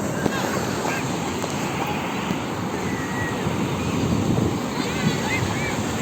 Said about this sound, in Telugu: అలలు చూడు ఎలా వస్తున్నాయో